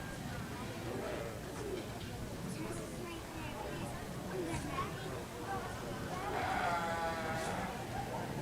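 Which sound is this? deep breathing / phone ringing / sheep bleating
sheep bleating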